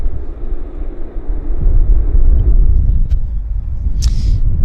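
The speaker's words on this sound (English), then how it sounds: "So there goes our Air Canada Airbus taxiing in" Steady low engine rumble of an Air Canada Airbus taxiing at Vancouver Airport, a continuous heavy drone with a brief higher whoosh near the end.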